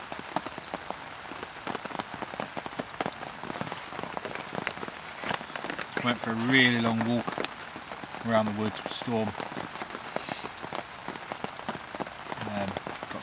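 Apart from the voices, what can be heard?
heavy rain hitting a tarp under a parachute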